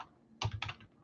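Quick keystrokes tap on a computer keyboard at a sports card break, a short close burst of two or three clicks and then quiet.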